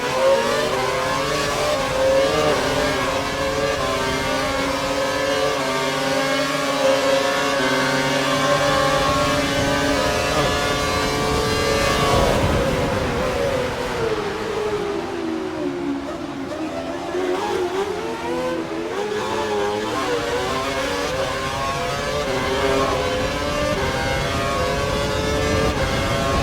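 Formula 1 race cars from F1 2012 during a young drivers' test, a loud close engine whine rising and falling through gear changes as the car accelerates, brakes and pulls away again, with other cars nearby.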